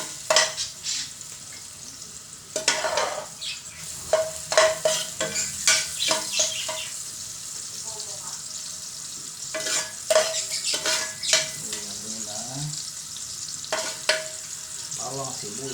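Ginger stir-fried in a pan while cooking balbacua, with steady sizzling broken by repeated scraping and stirring strokes of a utensil, close and fairly loud.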